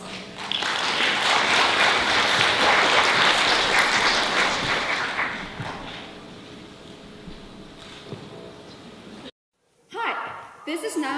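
A TEDx audience at a school event in Branksome Hall Asia claps loudly and steadily for about nine seconds, the applause slowly thinning before it cuts off, followed by a brief burst of low noise.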